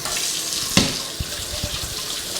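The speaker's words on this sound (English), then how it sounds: "I'm finna wash my hands." Hands rinsed under a running kitchen tap while preparing fried chicken, a steady close splash of water with a sharp knock near the start and a few soft thumps, no talking.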